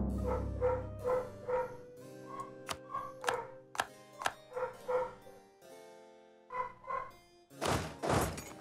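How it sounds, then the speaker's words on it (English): A dog named Ace barks upstairs in a home, a series of sharp, muffled woofs in irregular bursts with dull thumps between, heard through the ceiling at a moderate distance. "You may be hearing some barking upstairs."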